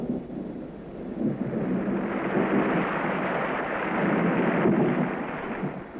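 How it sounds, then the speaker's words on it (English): A monsoon thunderstorm rumbles in a long, deep roll that swells and fades with a broad wash of rain and wind noise. It is moderately loud, somewhat distant and without talk. "This year, the first storms broke early."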